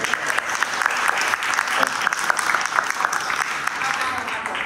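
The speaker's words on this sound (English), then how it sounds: "Let's give our planning commissioners a round of applause." A community audience applauds planning commissioners at a public session, a sustained round of moderate clapping from a room of people, with some voices mixed in.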